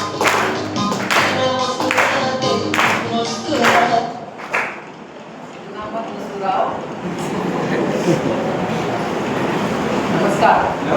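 Audience clapping at a public gathering in India, with loud bursts of applause and scattered claps near the front, mixed with someone speaking and crowd noise over the rest.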